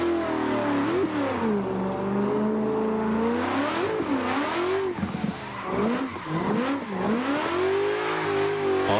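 A BDC V6 drift car in Assetto Corsa revs and accelerates through its gears, the engine note climbing and dropping repeatedly with loud, close, continuous roar and no talking over it.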